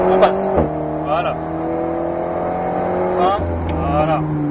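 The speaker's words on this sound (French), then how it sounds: "Là, on est quasiment au rupteur à chaque fois." Alpine A110 S race car on a track, its engine held near the rev limiter with strong steady harmonic whine and quick gear-change dips, loud and close from onboard, with a voice talking over it.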